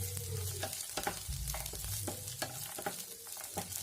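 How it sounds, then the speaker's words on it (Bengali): Nuts, cashews and raisins frying with potatoes in a pan, a continuous close sizzle broken by frequent scraping and stirring clicks from a spatula. "এগুলো আমি আলুর সাথে 1 মিনিটের জন্য ফ্রাই করব।"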